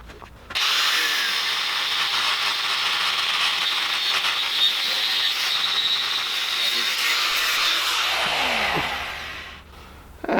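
A front driveshaft for a Brumby is cut with a power tool, producing a loud, sustained, even high-pitched grinding whine for about nine seconds before it winds down.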